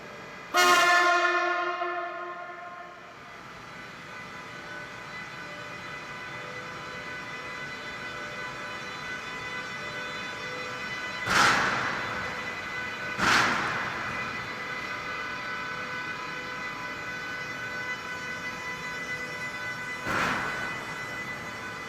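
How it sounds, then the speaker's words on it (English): A Series 101 electric locomotive, number 101064, readies to leave its depot in bright sunshine, with a long sustained horn-like tone at the start, then a steady hum and three short sharp bursts spaced apart. "Series 101064 is being prepared for regular service again and is ready to leave the depot."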